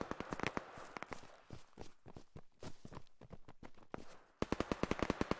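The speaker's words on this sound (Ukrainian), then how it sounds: "Хто це стріляє, блін?" Rapid bursts of gunfire in the video game Operation: Harsh Doorstop crackle in quick succession, with a louder, denser volley near the end.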